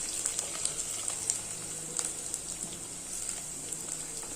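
Finely chopped ginger, about 100 grams, sautéing in a pan for inji puli, giving a steady, moderately quiet sizzle with faint crackles and occasional soft pops throughout, no voices.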